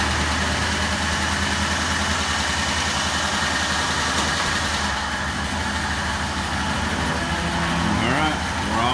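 An old motor that has been sitting runs steadily under a little throttle with the choke on, giving a loud, continuous, close engine drone that holds even across the whole stretch, with a slight rise near the end.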